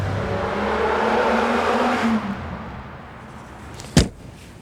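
A British glass-fibre-bodied sports car drives past with a steady engine note that swells and then fades over the first couple of seconds, followed by a brief sharp knock near the end.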